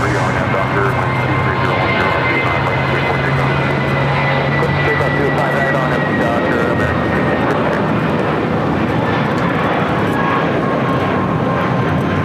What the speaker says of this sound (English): Looks like we're going to have 2 departures, takeoffs before the A380 crossing over.